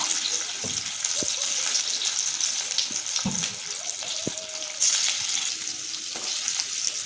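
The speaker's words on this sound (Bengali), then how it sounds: "পিস করে রাখা ধোকাগুলোকে এবার ভেজে নেব।" Pieces of dhoka lentil cake fry in white oil in a kadai, giving a steady, bright sizzle with a few soft clinks and stirring sounds throughout.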